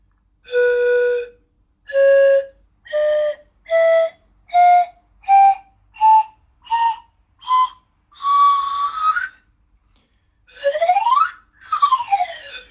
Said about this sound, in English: So this is a set of Antares panpipes. It's handcrafted from bamboo in Peru.